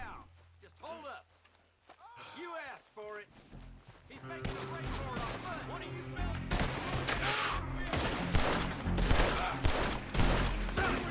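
Gunfire in the video game Red Dead Redemption 2, a series of shots over in-game footsteps and movement, with someone talking throughout.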